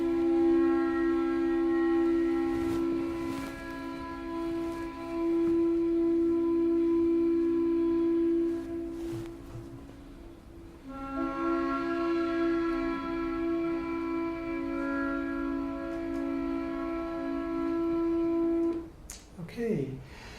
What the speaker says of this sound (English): play conch shells